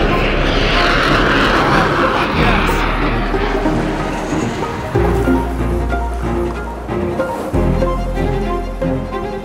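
Boom Supersonic test plane roaring on takeoff, a loud, continuous broadband engine rumble with a deep low drone, close and dominant throughout, with a voice talking over it.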